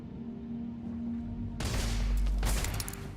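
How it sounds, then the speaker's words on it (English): A burst of gunfire in the space game Starfield, a sudden loud volley that breaks in after a quiet humming stretch and keeps rattling for over a second. "Where, where's this guy shooting from?"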